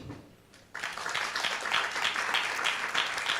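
An audience breaks into sustained applause for an honoured guest, a pastor, at a Mother's Day church broadcast, with broad clapping that swells suddenly after a quiet moment and continues steadily, fairly close and loud.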